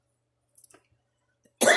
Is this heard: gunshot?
no